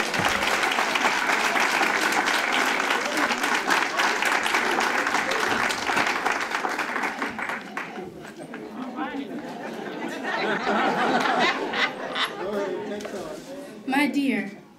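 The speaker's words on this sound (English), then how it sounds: "Let's give her a round of applause." Applause for a speaker at the Historic Calvary Baptist Church 50th celebration: sustained crowd clapping mixed with chatter that thins out, followed by a voice beginning to speak over the fading sound.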